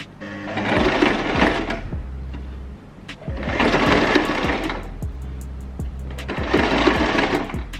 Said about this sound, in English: when you're sewing using a sewing machine